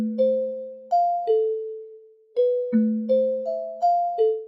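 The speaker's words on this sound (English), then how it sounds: "take a listen to how the bell sounds without any effects on" Plain synthesized bell tones with no effects, played as a dark beat pattern: a sequence of clean, evenly spaced chimes at two or three pitches, each striking sharply then decaying, close and alone with no voices.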